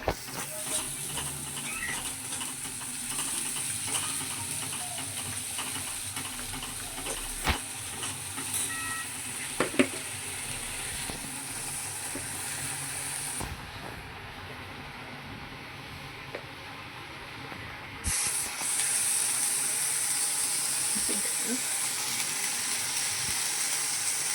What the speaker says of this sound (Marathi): वाटलेला मसाला छान फ्राय करून घ्यायचा